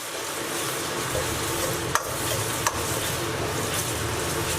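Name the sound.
stir-frying spices with a chunk of beef tallow hotpot base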